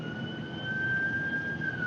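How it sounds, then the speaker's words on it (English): Ambulance siren passing outside a meeting room, a sustained high wailing tone that bends slightly in pitch as it goes by, heard at moderate distance over room noise. "It was the ambulance going by."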